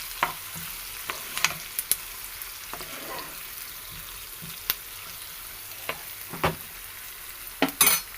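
Onion, green chilies and curry leaves fry in oil with a soft continuous sizzle, punctuated by scattered sharp clicks and scrapes of a spoon stirring in the pan, close by with no speech.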